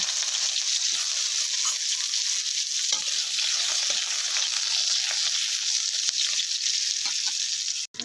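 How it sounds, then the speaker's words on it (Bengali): Bitter gourd fries in mustard oil in a pan for Bengali sukto, giving a steady, close hiss and crackle with occasional stirring knocks. "এরপরে আরেকটু সর্ষের তেল দিয়ে এবার উচ্ছেটা ভেজে নেব"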